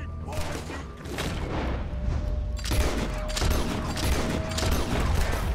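Gunfire in the Red Dead Redemption video game, rapid overlapping shots and booms in a sustained fusillade, loud and continuous, with voices talking over the shooting.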